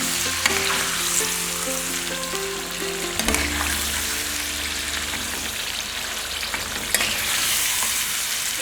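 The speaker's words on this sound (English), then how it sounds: "And fry it in high flame for 5 minutes" Marinated mutton fries on high flame in a pan, producing a loud, close, continuous sizzle with occasional sharp crackles and a low hum underneath.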